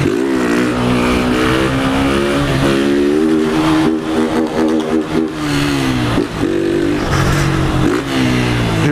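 A blue 2023 Honda Fan 160 motorcycle, its air filter removed and a tin exhaust fitted, revs hard and loud with a steady rasping drone that rises and falls, with brief dips in throttle, heard up close on a favela street.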